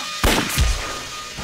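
A rifle fires in a wartime battle scene, a sharp loud crack followed quickly by a second heavy boom, then a short decaying echo.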